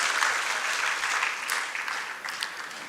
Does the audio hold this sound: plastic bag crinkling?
no